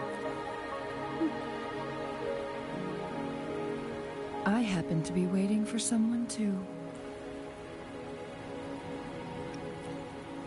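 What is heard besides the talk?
rain falling in a video game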